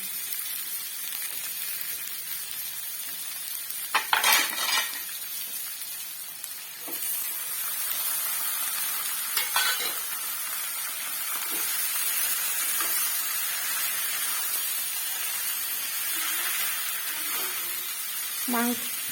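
Chicken added to a sizzling pan with tomatoes, a steady moderate sizzle with a few sharp bursts and scrapes of stirring, under intermittent talk.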